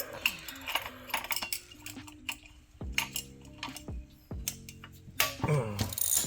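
Spring compressors being clamped onto a coilover from a Toyota TE72 wagon build: close metallic clicks, ratcheting and clanks, with a couple of ringing metal tones as parts knock together.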